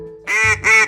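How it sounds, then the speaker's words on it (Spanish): Two loud, close nasal quacks from a duck in quick succession, short and honking, with no talking over them. "Es un pato. Cuac, cuac, cuac, cuac, cuac, cuac."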